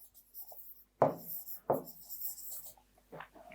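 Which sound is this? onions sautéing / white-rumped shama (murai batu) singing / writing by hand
writing by hand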